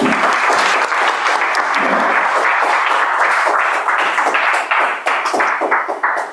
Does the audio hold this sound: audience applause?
yes